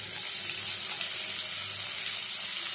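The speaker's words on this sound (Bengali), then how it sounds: "নিয়ে এবার এর মধ্যে ফোড়ন দিয়ে দেবো পেঁয়াজ ফোড়ন।" Onion and dried red chillies frying in hot oil as a tempering for a poppy-seed fish dish, giving a steady, close hiss and sizzle throughout with no talk.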